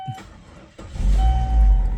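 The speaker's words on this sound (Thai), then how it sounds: "เดี๋ยวพา สตาร์ท ฟัง เสียงเครื่องยนต์กัน" A used automatic car with over 200,000 km on it starts up: a short cranking burst, then the engine catches and settles into a steady, smooth, fairly loud low idle with a faint high tone above it.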